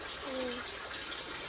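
Heavy rain pours with water flooding a yard, making a constant wash of rushing, splashing water close by, with a voice briefly heard over it.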